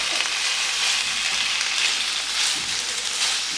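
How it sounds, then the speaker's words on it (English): Onion and bacon sizzle steadily in a pan, giving a continuous bright crackle that stays loud and even throughout with no one talking. "we're going to add the onion and bacon first"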